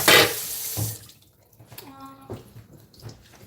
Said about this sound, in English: We love the sound of things flopping in water.